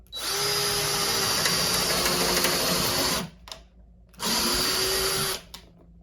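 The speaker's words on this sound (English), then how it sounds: "now we're going to start drilling here" A DeWalt power drill whirs at high speed on its lowest speed setting for about three seconds, stops, then runs again in a shorter burst; loud and close, no talking.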